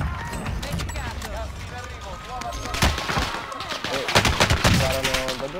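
Rapid gunfire rattles in an online shooter video game, bursts of automatic shots and single cracks coming in uneven clusters that grow louder toward the end, mixed with game effects and a player talking over it.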